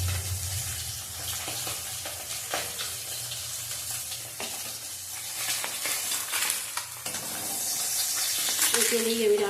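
Pieces of catla fish fry in hot oil in a home kitchen with a constant close sizzle, broken by scraping and stirring clinks as they are turned, and the frying grows brighter and more intense toward the end.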